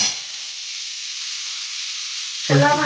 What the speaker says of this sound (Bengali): ছোলা সিদ্ধ করে ওটাকে তেলের মধ্যে সুন্দর করে তালা হচ্ছে, এর মধ্যে জিরে পড়বে